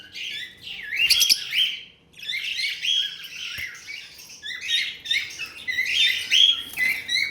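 Breeder pair of lovebirds, an albino red edge male with a creamino female, giving rapid high chirps and squeaky twitters in overlapping bursts, close and fairly steady throughout.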